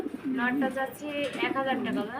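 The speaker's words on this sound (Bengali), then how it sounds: "একটা নান কবুতর দেখতেছি" An English nun pigeon coos close by in a series of rolling, throaty calls that rise and fall over about two seconds.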